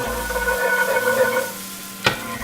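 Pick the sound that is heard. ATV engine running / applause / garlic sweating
garlic sweating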